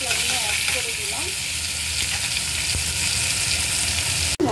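Spices for Bengali-style ghugni sizzle steadily in hot oil in a pan, a continuous broadband hiss with a few faint clinks, ending in a brief dropout.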